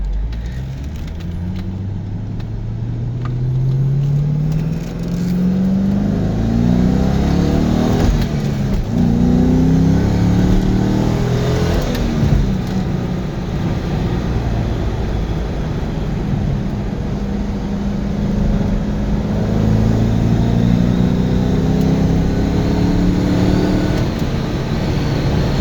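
A convertible car's engine runs while driving, loud and close, its hum climbing in pitch through repeated rising sweeps as it works up through the gears, with no talking.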